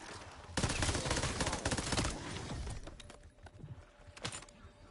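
Gunfire in Call of Duty Zombies, a rapid automatic burst lasting about two seconds, loud and crackling, then tapering into scattered single shots and clatter.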